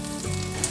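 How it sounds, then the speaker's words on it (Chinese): Carrots drop into hot oil with fried ginger slices, giving a brief, soft sizzle with a faint hum under it. "现在放入红萝卜"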